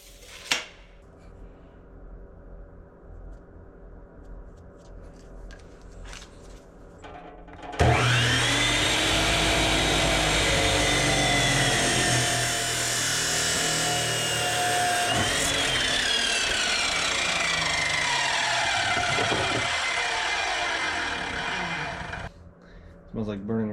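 Power cutter slicing through hydraulic rubber hose: a loud, steady high-pitched whine and grinding that holds for about fifteen seconds after quieter handling noises, then cuts off.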